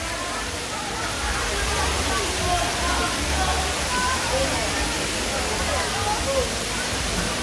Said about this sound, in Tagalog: Paakyat sa Big Falls ng Balagbag Falls